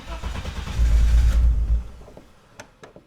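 A BMW E30's engine cranks loudly and struggles for about two seconds without catching, then fades into quieter clicks and small mechanical knocks.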